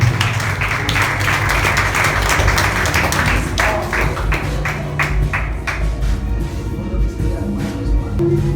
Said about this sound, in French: Applaudissons pour ça.